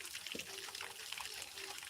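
Water runs from a hose pipe onto plants in a garden plot, a soft, faint trickle and splash that keeps going throughout.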